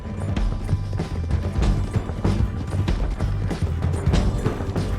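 A horse gallops in the Red Dead Redemption 2 video game, its hooves pounding in a rapid, repeated clip-clop rhythm, loud and close, with faint game noises behind.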